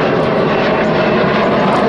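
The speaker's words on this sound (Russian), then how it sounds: "Вот мы как раз под самолетиками." An airplane passes close overhead, heard as a loud, steady broadband engine roar that stays level through the whole clip with no voices.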